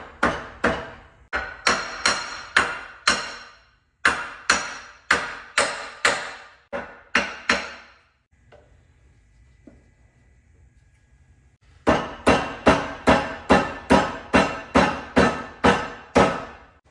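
Repeated sharp hammer blows drive a rubber bushing into a Chevy C10 squarebody suspension using a socket, in steady bursts of strikes with a brief quiet pause in the middle, close and loud.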